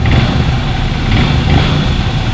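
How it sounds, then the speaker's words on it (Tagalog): A Honda CRF150L motorcycle engine runs loud and close in a steady idle rumble, with no talking over it. "Pakinggan niyo yung kanyang makina."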